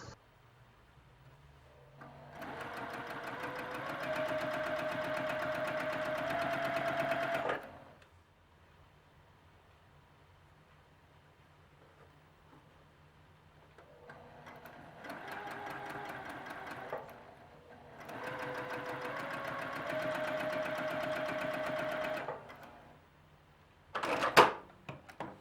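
A sewing machine chain piecing four fabric triangles for a quilt block runs in two steady, humming bursts of stitching separated by quiet pauses, with a brief clatter of handling at the end.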